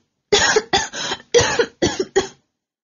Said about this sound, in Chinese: 咳嗽了两声